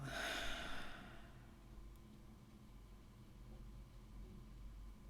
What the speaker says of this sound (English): let's have deep inhale and exhale